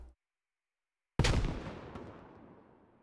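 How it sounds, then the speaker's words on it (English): A grenade explodes in the military shooter SquadOps: one sudden, loud close-range blast after a moment of silence, its rumbling tail fading away over a couple of seconds. "Grenade goes up."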